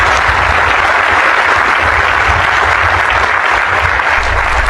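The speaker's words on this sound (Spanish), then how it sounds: "vamos a darle un aplauso a esta mujer" A crowd audience bursts into dense, loud, continuous applause for a woman at a public assembly, the clapping sustained evenly without a break.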